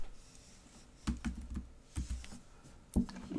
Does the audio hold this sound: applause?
no